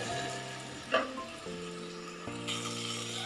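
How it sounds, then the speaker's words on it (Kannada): Onion and tomato frying in a pan for a Kannada chickpea sambar, a close, moderate sizzle with a stirring knock partway through and shifting tonal kitchen hum behind it. "2 ನಿಮಿಷಗಳ ಕಾಲ ಈರುಳ್ಳಿ ಮತ್ತು ಟೊಮೊಟೊ ಫ್ರೈ ಆಗಲಿ."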